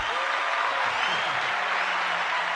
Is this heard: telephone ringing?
no